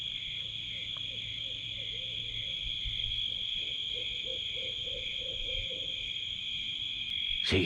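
Four or five owls hoot softly and repeatedly at a distance on a warm night, their low calls half-buried under a steady high whine of insects and crickets.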